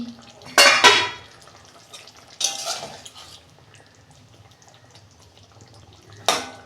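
A lid comes off a pot of potatoes cooking on a gas stove, giving a sharp metallic clatter, then a second clank a moment later and a final clink near the end, close by with quiet kitchen hiss between.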